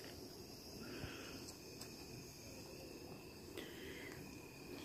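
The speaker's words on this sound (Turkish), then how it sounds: "oturduğumuz yerde çok haşeratlar var." Insects chirr steadily around a night campsite in winter, a continuous, even drone of cricket-like calls at moderate level with a few brief clicks and no talking.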